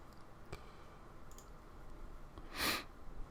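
A computer mouse clicks the Next button in a VMware vSphere installer, a faint single click followed by a brief louder burst over a quiet background hum.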